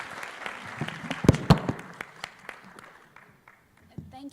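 Scattered clapping at a panel session on democracy and security, a few loud nearby claps standing out among a thin, patchy round that fades after a couple of seconds.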